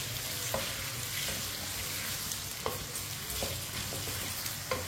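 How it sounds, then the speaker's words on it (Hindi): Potatoes for a raw mango and potato sabzi fry in a pan with a steady, close sizzling hiss. A spatula scrapes and stirs at irregular intervals, and no one speaks. "आलूओं को 2-3 मिनट के लिए फ्राई कर लिए।"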